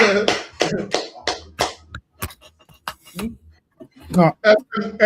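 A few sharp hand claps ring out in a classroom, scattered and brief, mixed in among stretches of people talking.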